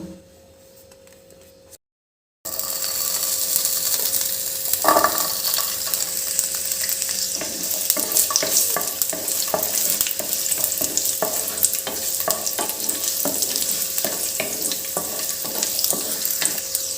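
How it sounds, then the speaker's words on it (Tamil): Ginger and garlic sauté in a hot pan for paneer capsicum masala curry. After a brief quiet start, a loud, steady sizzle sets in, with repeated scraping and clicking stirring strokes over the frying hiss. No one talks. "இஞ்சியும் பூண்டு ஒரு ரெண்டு நிமிஷம் வதங்கினதுக்கப்புறமா நம்ம வெங்காயம் தக்காளியை சேர்த்துக்கலாம்"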